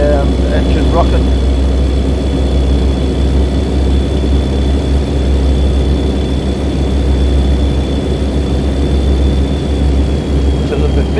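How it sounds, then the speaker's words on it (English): A big Kenworth truck engine with an 18-speed gearbox in American Truck Simulator gives a steady, loud, low rumbling drone that runs unbroken while the truck pulls along in misty weather. "Nice big powerful motor in this. You can hear that engine rocking."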